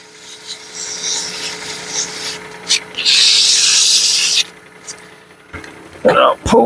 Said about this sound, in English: Sand our mouthpiece here. And this is just 120 sandpaper,